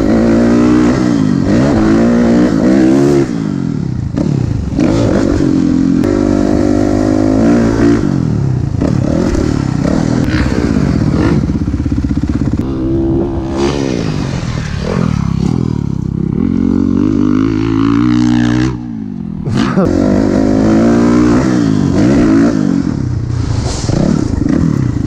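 A motorcycle engine revs and pulls through the gears while riding, loud and continuous, with rising and falling pitch sweeps and a brief dip near the end.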